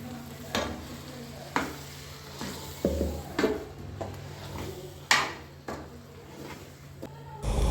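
A spoon stirs ground masala into cooked sprouted-bean vegetables in a pot, giving a series of soft scraping and clacking strokes at irregular intervals over a low background hum, with no talk.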